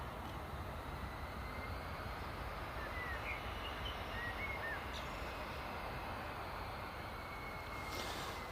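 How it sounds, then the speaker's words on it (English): An Italian-registered Learjet business jet starting up and taxiing at Newcastle Airport, its steady, broad engine roar droning continuously at a distance with a faint high whine riding over it and no voices. "That's the Italian Learjet just starting up and taxiing now."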